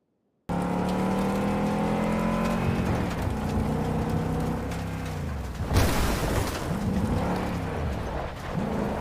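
A mini truck in the Kenshi video game drives up, its engine droning loud and steady with a rising whine that settles into a lower rumble, a brief rough burst midway, with no talk over it.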